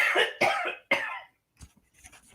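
Three sharp, harsh coughs in quick succession, fairly close, followed by a short pause and softer breathy sounds.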